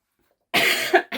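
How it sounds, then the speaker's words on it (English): One person gives a sharp, close cough after a short silence, followed by a brief second burst, with no one talking. "I just breathed in too deeply and now I have made myself cough"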